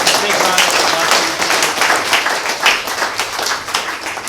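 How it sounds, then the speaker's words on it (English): A crowd at a Kaiser Permanente AD UP Hawaii event breaks into loud, sustained applause, many hands clapping densely throughout with some cheering voices underneath. "big round of applause."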